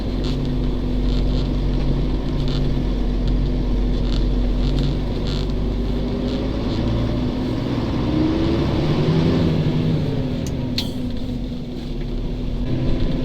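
A MAZ truck that had stood unused for 14 years pulls away from a military base, its heavy diesel engine rumbling steadily and loudly with a gradual rise in pitch as it drives off.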